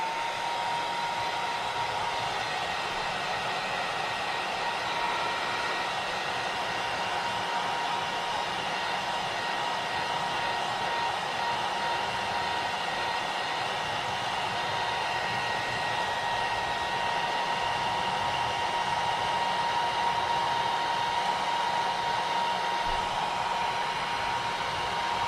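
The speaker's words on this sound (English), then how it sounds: "Keep the heat gun moving." A heat gun blows steadily for the full stretch, drying Mod Podge on a foam tree swing, a loud continuous airy roar with a faint tonal whine and no talking.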